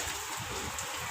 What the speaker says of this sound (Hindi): तिरछी बारिश है